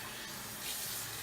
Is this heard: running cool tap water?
yes